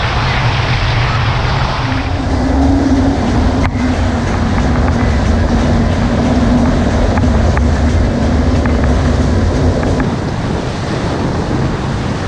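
A boat powered by a 225 two-stroke outboard runs across open sea, a loud continuous roar blended with rushing water and heavy wind buffeting, steady throughout.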